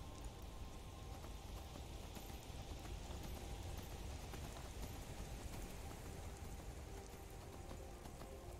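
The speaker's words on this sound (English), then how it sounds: "And now we have a freaking rain as a bonus." Steady rain falling in a survival video game, a constant soft hiss of drops spreading evenly across the whole stretch, fairly quiet with no speech.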